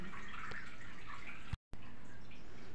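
Lentils (dal) washed in water in a kitchen while cooking for puran poli, soft swishing and dripping water with a few drips, a brief silent gap partway through, close and fairly quiet.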